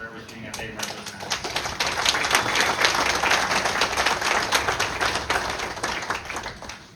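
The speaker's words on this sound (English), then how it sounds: "I'd like to give our families a round of applause for everything that they represent." Applause at an Army military retirement ceremony, a crowd clapping steadily for about seven seconds at moderate loudness, building and then tapering, with voices faintly audible beneath.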